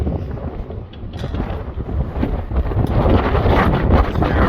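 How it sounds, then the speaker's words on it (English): Strong wind in a desert sandstorm at Slab City, California batters the microphone with a loud, continuous roar that rises and falls in gusts, with no voices. "Pretty much pointless trying to put my tent up in this wind."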